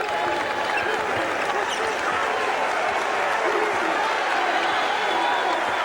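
A college basketball crowd at a Carolina at Clemson game cheers in a loud, sustained wash of arena noise, with faint court sounds underneath.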